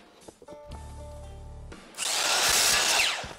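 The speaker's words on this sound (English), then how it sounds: "The only thing left to do is to see how well this cuts. And here I'm going to do a 12-inch cut." A miter saw motor hums steadily, then the blade bites into wood for a 12-inch cut with a loud, bright, sustained whining rasp that tails off at the end.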